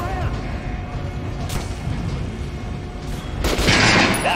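Gunshots hit an armored training dummy in Metro Last Light Redux, a few sharp reports with metallic clanks and a louder impact burst near the end, mixed with faint background game noise.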